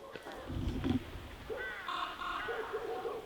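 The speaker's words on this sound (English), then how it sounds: "There's a big raven up there, as you can hear." A large raven calls from somewhere above the ruins of a medieval abbey in Ireland, giving a few hoarse, croaking caws, moderately distant and heard alone in the quiet outdoors.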